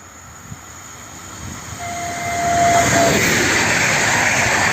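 A train at Czachówek, Poland, rumbles closer and passes, its steady roar building and holding, with a brief high horn-like tone in the middle and no voices.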